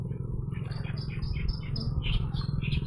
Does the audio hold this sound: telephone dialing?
no